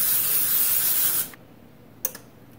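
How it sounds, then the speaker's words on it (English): Cooking spray hisses steadily onto a pan for about a second, then cuts off, followed by a short clatter. "you never want to forget the spray"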